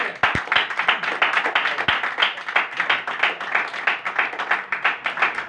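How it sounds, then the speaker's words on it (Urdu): Church congregation giving a loud, sustained round of applause, many hands clapping steadily and densely for several seconds, close and full. "ایک بار زوردار تالیاں"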